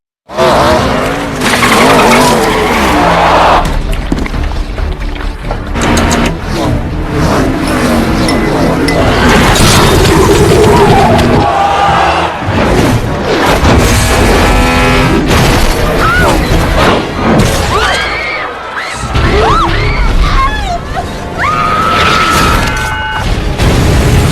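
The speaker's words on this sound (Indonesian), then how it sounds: "Tidak lama kemudian terjadi kecelakaan besar pada balapan tersebut" A NASCAR race car crash from the Final Destination film plays out loud and close: engines roar, tires squeal and skid, and booming impacts and metallic clinks follow, with dramatic sound effects and some voices in between.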